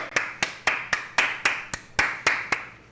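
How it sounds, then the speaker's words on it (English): Roughly ten crisp hand claps come in quick succession at a slightly uneven pace, each loud and near, heard alone without any voices. "Clap it up!"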